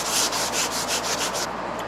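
Hand sanding with 80-grit sandpaper on a truck fender flare produces about seven rhythmic back-and-forth scrubbing strokes, close and steady, then stops.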